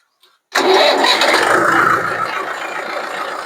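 A Swaraj 843 XM diesel tractor engine cranks and catches right after an oil change, roaring loud and close before settling into a steady, slightly quieter idle, with no talking.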